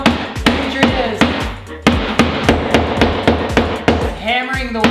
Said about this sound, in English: hammering the wall for pretty much no reason